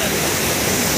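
A waterfall at Tetengabad near Dhanbad, a steady dense rush of falling water that fills the short stretch with broadband noise, loud and close.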